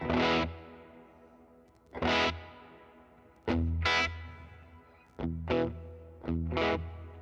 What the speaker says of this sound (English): the reverb is mixed to the compressed signal, sounding something like that